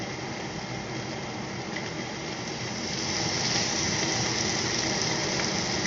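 Steady, crackling sizzle of steaks frying in a hot pan, close and continuous, growing slightly louder midway.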